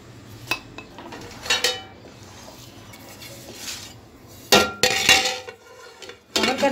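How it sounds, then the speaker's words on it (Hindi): A cooking pot of carrot and semolina halwa on a slow flame, its lid set on with a few metallic clanks and clinks, separated by quieter stretches of light kitchen rattling, close by with no talking. "कवर कर दिया मैंने इसे"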